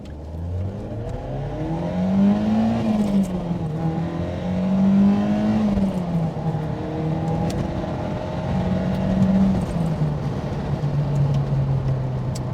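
A 200-horsepower Ford Sierra Cosworth with a twin-cam engine accelerates hard, its tone climbing and falling through the gear changes as a steady, loud in-car drone with no talk.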